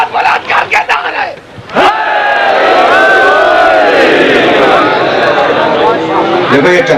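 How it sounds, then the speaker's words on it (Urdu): A large crowd answers a call with a loud, sustained collective shout of a religious slogan, preceded by a leader's voice over scattered cheers, the mass roar swelling and holding for several seconds. "اور پوری طاقت سے دونوں ہاتھ بلند کر کے نعرہ"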